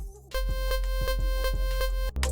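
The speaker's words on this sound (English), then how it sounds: "If you can make a sound like this, you can create raw tempo kicks." Harsh synthesized raw tempo kick drum, dry with no effects, pounds in a steady, fast four-on-the-floor pattern, loud and buzzing, with a brief gap near the end.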